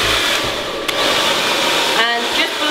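Handheld hair dryer blowing steadily onto hair as it is smoothed with a brush at home, a loud close continuous whoosh with slight shifts in tone as the airflow moves.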